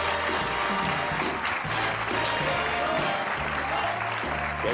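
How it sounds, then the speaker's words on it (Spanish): Studio audience applause on a Spanish television variety show, steady and full throughout, with music playing underneath. "Un fuerte aplauso."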